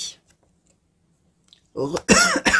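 After a near-silent stretch, a loud close cough bursts out in a couple of harsh rasping pushes.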